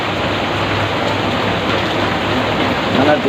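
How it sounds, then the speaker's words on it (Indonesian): Heavy morning rain in East Jakarta, a loud, continuous roaring wash with a faint low hum beneath, steady throughout, with a voice faintly present near the end. "Ini hari ini hujan terus, lumayan deras."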